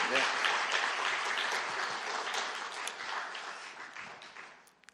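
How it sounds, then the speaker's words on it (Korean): A church congregation at a revival service applauds to welcome the pastor to the pulpit. The clapping is dense, loud and continuous, with a few voices mixed in, and it fades toward the end. "큰 박수로 환영해 주십시오."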